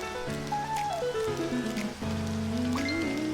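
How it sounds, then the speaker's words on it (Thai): Rain falls in a block-building video game as a soft, continuous patter beneath a gentle melodic game soundtrack that carries over the top. "ฝนกำลังตกเลยนี่ว่ะ"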